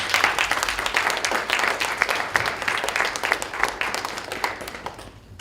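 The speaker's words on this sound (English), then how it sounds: "Everybody give him a round of applause." An audience gives a round of applause for a speaker being introduced, loud, crowded clapping that stays strong for several seconds and then gradually thins and fades toward the end.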